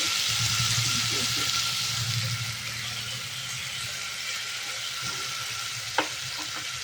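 Tomato paste stirred in a hot pan with oil, a loud steady sizzle with soft scraping, the frying easing slightly partway through and a single sharp knock near the end.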